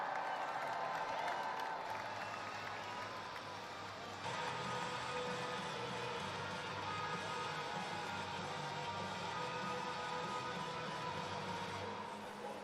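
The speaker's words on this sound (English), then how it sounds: "Let's get the Sacramento crowd to make some noise." Monster Jam arena crowd in Sacramento during a freestyle event, a broad steady roar of cheering and clapping that holds at an even level throughout, with no clear individual voices standing out.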